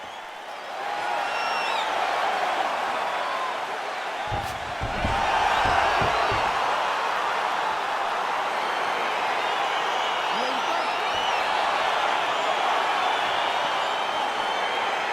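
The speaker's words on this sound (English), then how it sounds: "crowd getting excited as this fight gets underway" A virtual arena crowd in the UFC 4 fighting game roars steadily as a fight begins, a dense continuous cheer with a louder swell and some thumps near the start.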